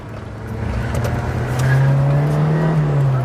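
A 1992 Rover Metro 1.1S pulling away in first gear, its small engine droning and rising steadily in pitch, loud and close from inside the car.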